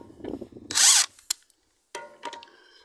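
A power tool whirs in a short loud burst, then rattles through quick stuttering pulses as it takes the wheel nuts off a SEAT Leon during a rear brake pad job.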